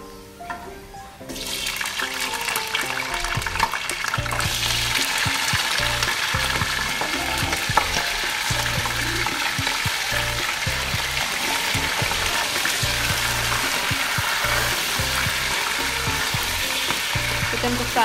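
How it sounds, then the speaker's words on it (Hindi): Chicken pieces fry with onions in a hot pan for an Afghani Kabuli pulao, giving a loud, steady sizzle that swells after a quiet opening second and runs unbroken, with occasional stirring clinks. "चिकन को फ्राई कर लेंगे थोड़ा"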